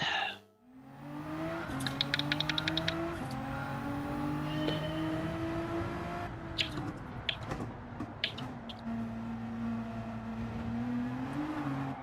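A Nissan GT-R race car in Gran Turismo 7 holds a steady engine drone that rises slowly in pitch, with brief rattling clicks and a few sharp transients mid-way, heard alone at moderate level.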